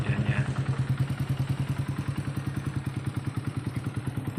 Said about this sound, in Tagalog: So ayan, sobrang ingay, then malakas yung lagitik ng makina niya.